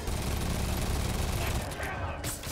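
Thugs shooting at each other in the Spider-Man video game, a dense, continuous crackle of rapid gunfire filling the scene, loud and close, with a person talking over it.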